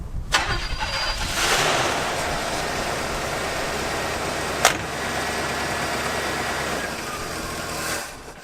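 Square body Chevy truck engine cranks over and fires, then settles into a steady, loud idle with a brief sharp click midway, running alone without talk.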